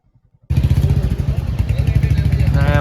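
Several motorcycles arriving and rolling into line at a Sunday riders' meetup in Rajkot, engines loud and close with a steady rumble and revving, starting after a brief near-silence; voices talk over them.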